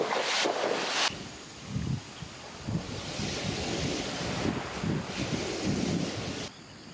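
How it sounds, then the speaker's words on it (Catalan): Strong wind gusting across a tropical beach in Papua, with waves and surf washing nearby and heavy buffeting wind noise on the microphone throughout, dropping briefly at the end. "però com veieu, hi ha bastant de vent."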